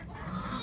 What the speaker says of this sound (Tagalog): uy, mga manok, ilan na lang